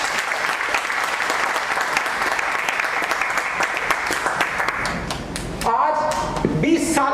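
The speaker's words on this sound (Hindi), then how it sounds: "तालियां बजा लो फिर एक बार" A crowd at a motivational talk claps loudly and steadily, the dense applause thinning after about five seconds into a few scattered claps as other sounds enter.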